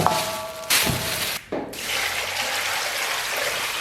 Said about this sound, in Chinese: 然后咱们拿清水给它 清洗一下